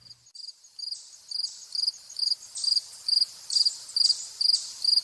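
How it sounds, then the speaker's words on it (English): Fall field crickets chirp in August in a steady, repeating rhythm of short bright pulses, loud and close, with no other sounds around them. "Fall field crickets in August"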